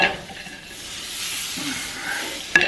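An egg mixture hits a hot buttered pan, giving a gentle hissing sizzle that swells and settles over a few seconds, ending with a sharp clink of utensil or pan.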